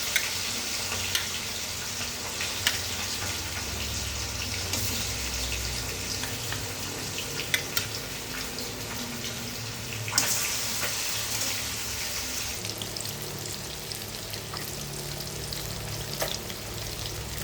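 Hilsa fish pieces fry in hot mustard oil with a steady, moderate sizzle and occasional sharp pops and spatters, heard close and without talk.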